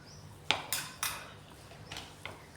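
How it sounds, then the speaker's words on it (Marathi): A spoon scrapes and clinks against a bowl while mixing ginger-garlic paste with arrowroot, several short sharp knocks spaced through a quiet background. "चमच्याने व्यवस्थित मिक्स करायचं आहे"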